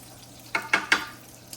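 Meatballs sizzle in a pan with sauce, and three quick, even-spaced stirring scrapes bring short sizzling bursts over a faint background hiss, close and fairly quiet.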